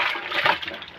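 A garment is rinsed in a basin of water, giving a brief close splash and slosh that lasts about a second.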